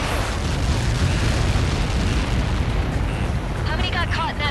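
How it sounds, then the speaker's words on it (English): A massive explosion impact in the air-combat game Ace Combat 7 roars as a dense, loud, sustained rumbling blast, with a radio voice starting to speak over it near the end. "How many got caught in that explosion?"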